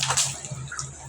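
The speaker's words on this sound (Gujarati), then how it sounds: "બોર બગડી ગયો તો હવે પાણી આવ્યું" Water gushes steadily from a household tap after a broken borewell pump has been repaired, a continuous near splashing and hissing flow that fills the whole stretch.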